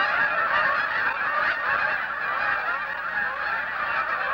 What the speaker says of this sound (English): Some geese will remain here.